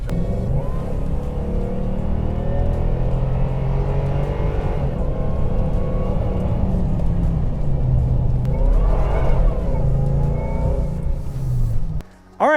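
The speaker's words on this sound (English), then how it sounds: "it's actually quite a nice truck to drive" Toyota Tundra pickup truck drives along with a steady, loud engine rumble and road noise, swelling briefly as it accelerates, with no talking.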